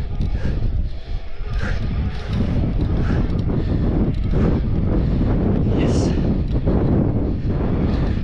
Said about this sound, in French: Plein vent du sud.